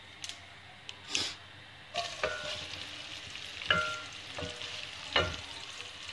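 Small onions frying with boiled mutton liver in a pan, a soft continuous sizzle broken by several louder stirring scrapes and clinks of a spoon against the pan.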